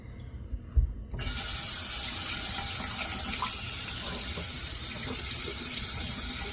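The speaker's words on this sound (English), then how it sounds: "Get this tub rinsed off." Water gushes from a tap to rinse out a tub, starting abruptly after a few soft knocks and handling sounds, then running as a steady, loud, hissing stream with no speech.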